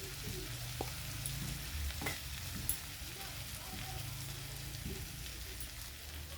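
Masoor dal fries in a pan with salt, turmeric and cumin powder, giving a steady, close crackling sizzle with a few light stirring knocks and no talking.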